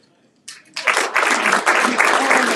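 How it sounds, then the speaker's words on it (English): Applause from the audience at a Rotary Club of Tucson meeting, starting abruptly and swelling into steady, loud clapping that fills the room. "Well deserved as well, that applause."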